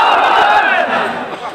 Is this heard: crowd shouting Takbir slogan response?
yes